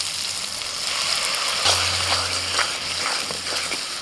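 Tomato paste hitting hot oil in a pan and sizzling, a loud close hiss that swells as it goes in and keeps crackling steadily, no talking.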